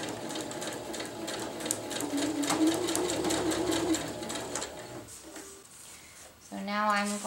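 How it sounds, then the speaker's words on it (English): A sewing machine runs a seam on a winter tarp at a steady hum for several seconds, then stops, followed by a short tonal whir, with a voice talking over it close by. "do the reinforcement stitches all along the way"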